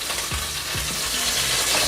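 Fenugreek berries landing in a hot pan, a steady close sizzle with a few low thuds as they drop in, no voices.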